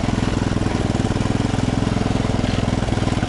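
A freestyle riding lawn mower with a newly installed engine runs steadily and loudly, its fast, even chugging close by and alone, with no voices.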